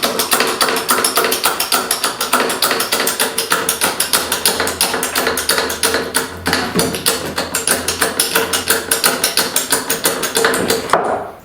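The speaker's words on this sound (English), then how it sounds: "then it's just a matter of jacking it up" A jack lifting a homemade scaffolding tower, with loud, close, rapid rhythmic clicking and tapping as the handle is pumped steadily, continuing throughout without talk and ending abruptly.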